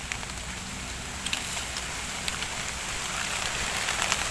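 Steady rain falls on surfaces outdoors while white mushrooms are gathered, a soft continuous patter with a few sharper drops, no voices.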